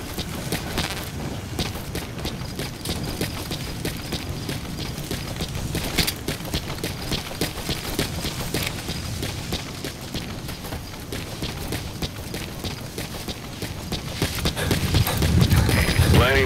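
Horse hooves clip-clop steadily in the Metal Gear Solid V: The Phantom Pain video game, a continuous galloping rhythm over game ambience that swells louder near the end.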